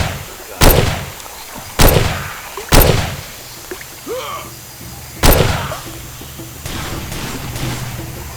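Sharp, loud gunshots in the Far Cry 2 video game crack out four times at irregular intervals over a low ambient hum, with a fainter rumble trailing off at the end.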